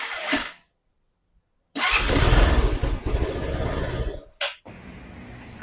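A motorcycle engine that was rained on the day before is started on a cool morning: a brief first try, a pause, then it fires and settles into a steady, fairly loud idle as it warms up.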